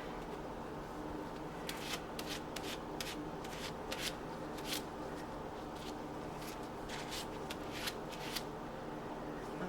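Scraping and rubbing on the edges of a handmade black amber musk camo soap bar, a steady run of short, soft strokes repeating close by with no talking.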